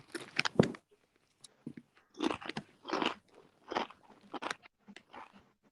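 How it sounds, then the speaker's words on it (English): Loud, close crunching bites and chewing of crisp chips in irregular bursts separated by short quiet pauses. "I love these chips, but I hate eating them because they're so crunchy."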